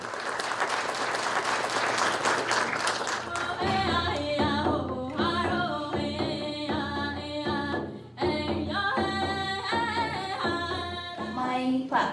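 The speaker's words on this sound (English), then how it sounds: "You guys have to cheer on these beautiful young women." An audience at a 2021 Indigenous closing ceremony applauds and cheers for young women. Dense clapping fills the first few seconds, then continues beneath loud music that carries on to the end.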